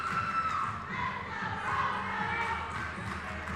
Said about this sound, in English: And the Rosebuds fan go wild over in the audience. The cheering has begun.